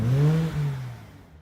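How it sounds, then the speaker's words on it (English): A 2016 Subaru Outback 3.6R engine with a Flo Pro Max split dual exhaust gives a short, deep rev that swells over about half a second, then settles and fades to a quiet idle. "Interior tone level is mild with this Flo Pro Max split dual exhaust."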